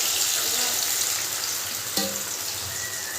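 Spice paste going into hot oil tempering with a green chilli for a Bengali hilsa curry, a dense steady sizzle with a brief clatter as it drops in, no voices.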